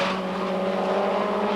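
Ford Sierra Cosworth touring car racing at a British Touring Car Championship round in 1990, its engine a loud, steady, close drone held at high revs throughout with no voices.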